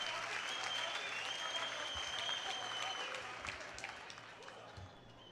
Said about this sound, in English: let's clap hands for National Executive Committee members who took their time to come and support the ANC Youth League